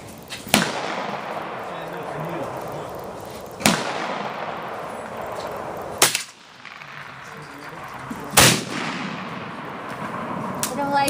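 Four sharp, loud rifle shots from an SKS and a Mosin Nagant M44, spaced a few seconds apart, each followed by a short ringing decay outdoors.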